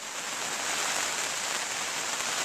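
Rain falls steadily as a dense, even hiss, continuous and moderately loud with no voices.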